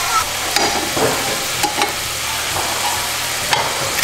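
Shrimp frying in a pan, a steady close sizzle and crackle with a few light utensil taps and scrapes scattered throughout, no speech over it.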